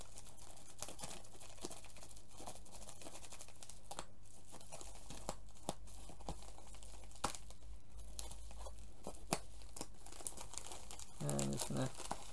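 A package sliced open with a personal knife and unwrapped for an Undertale collector's edition: steady crinkling and tearing of wrapping, close and fairly quiet, with scattered sharp snaps, a brief voice near the end.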